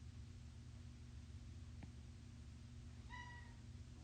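A single short cat meow rises briefly near the end over a steady low hum and background hiss; fairly faint and a little distant.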